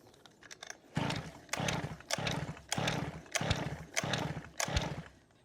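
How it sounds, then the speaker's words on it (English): Repeated pull-start attempts on a flooded Zenoah RC engine: six rhythmic bursts about a second apart, each a loud rasping whir of the starter cord and cranking engine that never catches, with brief quiet gaps between pulls. "So I'm going to turn the choke off now just to see how it's going to start here"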